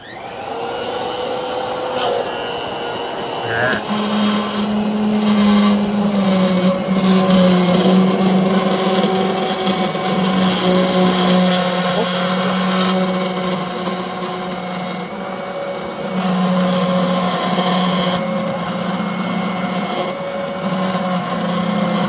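VEVOR commercial immersion blender pureeing vegetable soup, a loud sustained motor whine with a churning, shifting pitch as the blade works through the soup, running continuously without talk.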